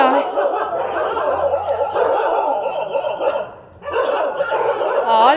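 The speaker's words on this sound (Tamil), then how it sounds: "சுற்றியும் நாய் தான் எல்லாம் என்னை பார்த்தோன்னே குலைக்குதுங்க" Dogs bark repeatedly and close by at night around a pilgrimage lodging in Shirdi, a dense run of overlapping barks with a brief lull before they resume.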